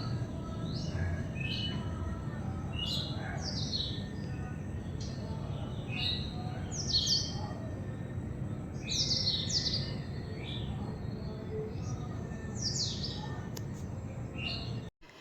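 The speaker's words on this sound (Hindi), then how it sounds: "अब आप आवाज़ सुनिएगा, इतनी मधुर आवाज़ आती है चिड़ियों की हमारे घर में सुबह के टाइम पे।" Many birds chirp and tweet in short bursts around a house in the early morning, over a steady low background hum, calls scattered throughout at moderate distance.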